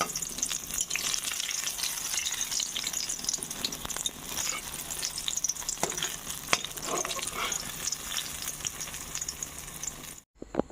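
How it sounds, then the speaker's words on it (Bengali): Brinjal slices fry in a little oil in a pan with a steady, dense sizzle and occasional stirring clicks, continuous and close, cutting out abruptly near the end. "বেগুনগুলি ভাজা হয়ে গেছে"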